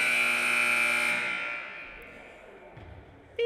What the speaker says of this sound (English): And that's the horn